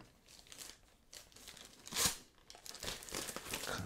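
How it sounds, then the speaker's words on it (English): Plastic wrap around a Spider-Man statue being pulled open and crinkled, with scattered rustling crackles and one louder tearing burst midway, close and fairly quiet throughout. "So let me open up the plastic here"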